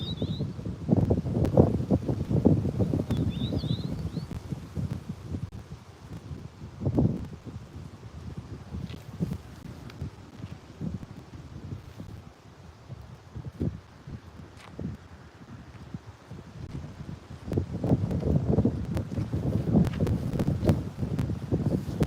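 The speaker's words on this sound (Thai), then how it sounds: "ลมมันสั่น" Wind buffets the microphone at a riverside water park in Mudgee, a rough, rumbling gust noise that swells and eases over about twenty seconds, with occasional faint rustles.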